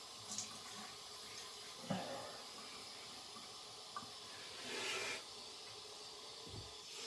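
Tap water runs and splashes at a bathroom sink as a face is wetted before a classic shave, soft and close, with a few brief knocks and a swell of splashing.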